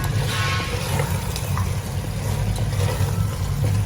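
Mutton gravy with tomatoes sizzles in a frying pan as it is stirred, a loud steady crackle and hiss with faint scraping of the spoon, close up and without talk.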